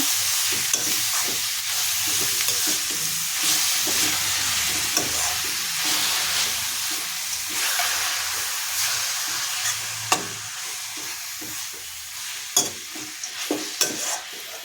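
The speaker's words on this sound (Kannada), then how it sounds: "ತುರ್ಕೊಂಡಿರುವಂತಹ ಬೀಟ್ರೋಟನ್ನು ಸೇರಿಸಿ ಈ ಒಗ್ಗರಣೆ ಜೊತೆ ಚೆನ್ನಾಗಿ ಮಿಕ್ಸ್ ಮಾಡಿಕೊಂಡು" Grated beetroot sizzles and fries steadily in a pan with spiced tempering, a continuous hiss broken by repeated scraping stirs of a spoon.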